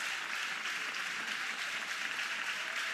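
A college softball crowd at an Oklahoma Sooners versus California Golden Bears NCAA game cheers and claps for batter Sam Landry, a steady, fairly faint roar of applause with no break.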